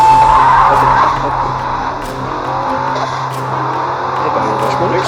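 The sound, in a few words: drag race cars accelerating, video game Drag Battle Racing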